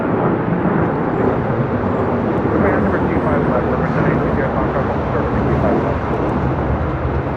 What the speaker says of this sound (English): This is Delta Airlines 811 taking off to Miami, Florida on a 737-900ER.